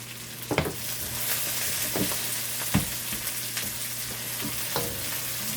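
Peppers and tomatoes go into a hot frying pan while cooking a rice dish, giving a steady close sizzle. Several sharp stirring scrapes and clinks break through it.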